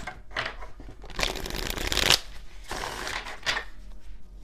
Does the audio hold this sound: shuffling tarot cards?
yes